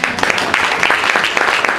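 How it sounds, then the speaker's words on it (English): Audience at a talk applauds briefly, a dense, fairly loud patter of many clapping hands lasting under two seconds. "give her a round of applause"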